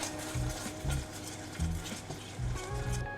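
Melted butter and cold cream being stirred together in a pan for pumpkin spice latte cinnamon buns, giving soft scraping swishes in a steady rhythm of about five strokes over a low, steady background hum.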